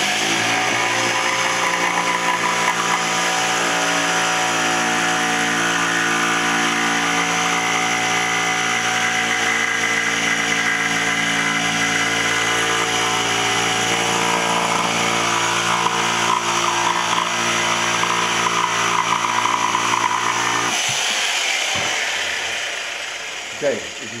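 Power tool cutting through a car fender, a steady loud grinding whine with a harmonic buzz that holds for about twenty seconds before cutting off, leaving faint scraping.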